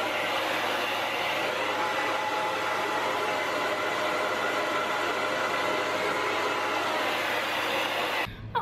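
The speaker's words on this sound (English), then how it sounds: "give this a good blow dry" A hair dryer blows steadily as Halloween neck makeup is dried, a loud, close, continuous rushing whoosh that lasts the whole stretch and cuts off abruptly at the end.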